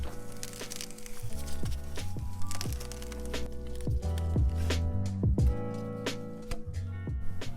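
An old, leaky rubber hose squelches and squeaks as it is squeezed, giving wet, rubbery squishes with a few sharp cracks, close up and sounding alone for several seconds.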